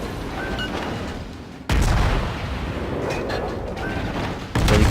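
Warship guns in World of Warships firing high-explosive shells during a battle with the Phoenix: loud, abrupt booming salvos at about two-second spacing, each trailing a long rumble, under game background noise.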